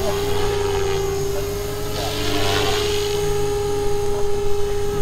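Forza H1 radio-controlled helicopter throttling up in 3D mode, a steady high whining rotor and motor drone with a rising whoosh of blade noise, close and continuous.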